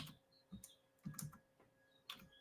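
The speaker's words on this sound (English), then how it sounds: "Typing in the dark here." Typing on a computer keyboard in a quiet dark room, with sparse, soft individual key clicks at an irregular pace, faint and close, with no voices.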